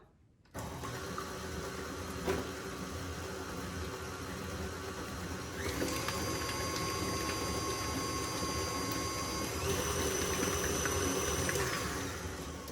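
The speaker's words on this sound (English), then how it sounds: "Make sure you turn your mixer down before you add the next egg" Electric mixer beating eggs one at a time into Irish whiskey cake batter, a steady close motor whir with a rattling churn that grows fuller and higher partway through and then holds steady.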